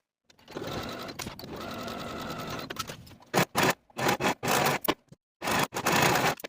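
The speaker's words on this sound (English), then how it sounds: "Sew the side seams with a 5/8 inch seam allowance and finish the raw edges" A sewing machine runs a continuous seam along the side seams of a romper bodice, then breaks into several short bursts of stitching separated by pauses, close and loud with no talk.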